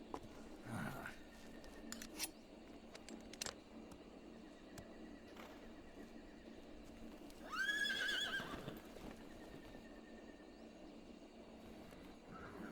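A lone horse whinnies in the video game Metal Gear Solid Delta: Snake Eater, one rising, wavering neigh near the middle over quiet ambient game sound, with a few sharp clicks earlier.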